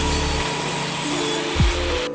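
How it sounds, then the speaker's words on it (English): Table saw ripping a white oak mallet handle to shape, a loud continuous motor drone with one brief bogging dip as the blade works through the wood, close and without talk. "I then ripped the handle to shape on the table saw."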